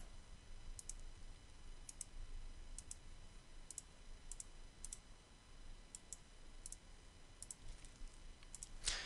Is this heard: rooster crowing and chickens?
no